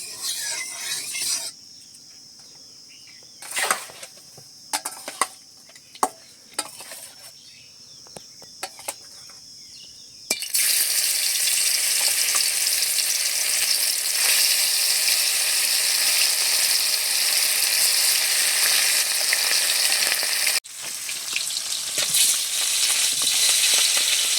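Tangra fish frying in hot oil in a wok, a few sharp crackles at first, then a loud, steady, close sizzle that fills most of the clip and keeps going with a brief break near the end.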